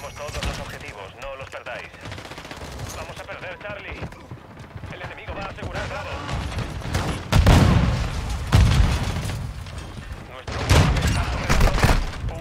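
Gunfire in Call of Duty MWII rings out in bursts and single shots, louder cracks coming near the end, while a person talks over much of the action.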